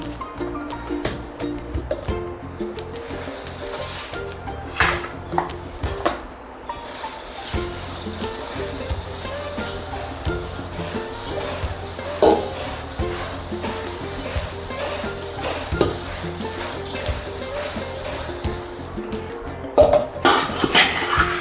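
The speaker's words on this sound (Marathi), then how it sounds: "याला असं हलवून घेते सगळं बुडातून" Thin poha chivda being stirred in a pan with sugar, salt, chilli and spices, giving a steady run of scraping and metallic clinks from the spoon against the pan bottom, close and fairly busy, with no talk.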